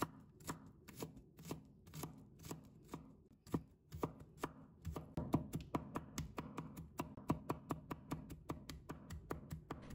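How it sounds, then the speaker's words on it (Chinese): Garlic cloves are sliced thin and then minced with a kitchen knife on a cutting board, giving steady, close, crisp chops that speed into a rapid rhythm toward the end, with no talking. "改刀切成薄片， 再切成蒜末。"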